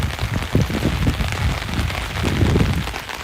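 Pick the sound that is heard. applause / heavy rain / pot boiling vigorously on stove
heavy rain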